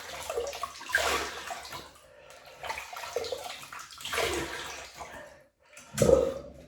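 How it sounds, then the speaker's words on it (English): Hot water splashes as a face is rinsed during a shave, several distinct bursts of pouring and splashing separated by short pauses, close and fairly loud, ending with a sharper splash. "I'll just rinse the face. Oh, that is hot."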